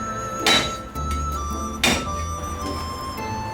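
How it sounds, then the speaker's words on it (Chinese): Two sharp knife blows crush garlic cloves on a cutting board in a home kitchen, each a loud, brief thunk about a second apart, with light kitchen background noise between them. "大蒜少许，用刀撇破"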